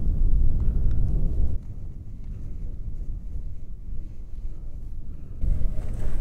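Wind buffeting a microphone on the Black Mountains in Wales, a low rumbling roar that gusts louder at the start and end and eases to a steadier blustery rush in between, with no voices.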